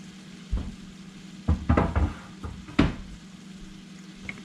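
Slightly frozen greens stirred into a cooking pot: a handful of irregular scrapes and clunks of a utensil against the pot over a low background hum, with a quiet sizzle between strokes.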